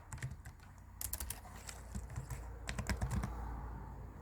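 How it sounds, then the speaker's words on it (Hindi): Fingers type a passport number on a computer keyboard, a quiet run of irregular clicking keystrokes in small bursts with short pauses between, close and alone. "यहाँ पे आप अपना पासपोर्ट नंबर एंटर करेंगे"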